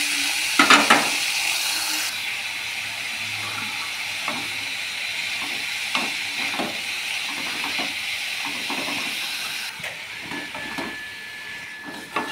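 Sliced ash gourd tossed into spices frying in a pan for a Bengali dish, giving a steady close sizzle with intermittent scraping stir strokes throughout, no talking.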